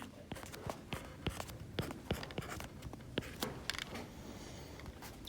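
Pen strokes scratching across paper while sketching a polar graph, a steady run of short, close scribbling taps and scrapes with brief pauses between lines.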